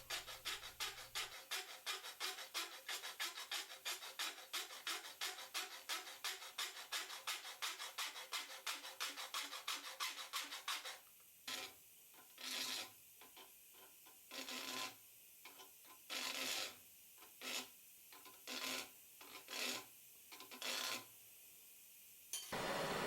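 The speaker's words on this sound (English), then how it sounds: "Unfortunately, the only round file I have is from my chainsaw. A larger round file would make it much quicker." A metal ginkgo leaf held in a vise is filed with a small chainsaw round file. Rapid, regular rasping strokes come first, then slower, separate bursts of scraping with short pauses between them.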